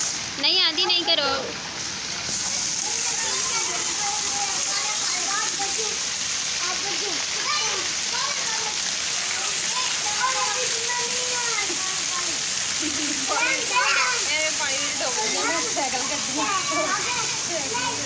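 Heavy stormy rain hisses steadily across the whole stretch, with children's voices and people talking over the downpour.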